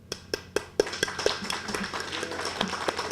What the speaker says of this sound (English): That's something worth clapping about.